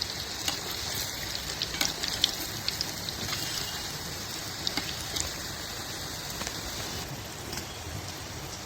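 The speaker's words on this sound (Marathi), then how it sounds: "वडा तळून घेतलाय" Medu vada batter frying in hot oil for dahi vada, a steady close crackling sizzle with scattered sharper pops, continuous and unaccompanied by talk.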